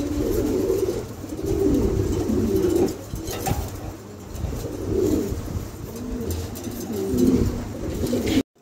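Fancy pigeons, including a female king pigeon, coo in repeated low rolling phrases, several birds overlapping in close, fairly loud bursts every second or two, with quieter gaps between.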